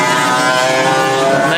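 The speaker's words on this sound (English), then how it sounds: "that sounds like a very loud kart out there on the circuit" A loud, harsh racing kart engine drone from a faulty exhaust at a kart club circuit, raspy and buzzing in tone, steady and continuous, dominating the sound.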